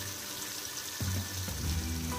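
Onion, tomato, bay leaf and ginger-garlic paste frying in a pot on the way to a Malvani chicken dish: a soft, fairly faint sizzle that grows fuller partway through.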